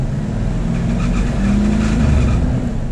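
A Chevy C10 pickup's engine revs as the throttle is opened, a loud, steady engine roar holding close and continuous with a slight swell in the middle.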